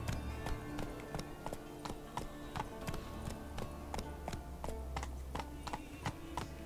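A horse trots in The Witcher 3, its hooves landing in a steady, quick clip-clop rhythm of sharp taps over a low rumble, fairly faint and continuous throughout.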